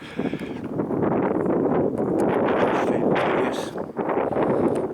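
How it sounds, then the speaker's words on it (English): Strong wind blusters across the microphone outdoors near an old abbey and country house, a continuous broadband rushing roar that swells and dips slightly without pause. "bit of bloody wind now"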